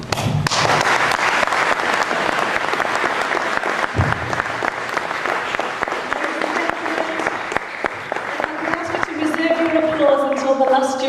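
An audience claps for a student who has just recited a poem at a school talent show. The applause is steady, dense and sustained for several seconds, and a few voices rise near the end.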